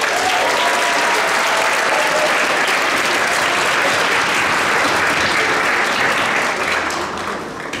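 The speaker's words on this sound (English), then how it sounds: "A round of applause for them real quick." Concert audience at a school general music concert applauding loudly, a dense, sustained roar of clapping hands that holds steady and begins to taper off near the end, with no speech over it.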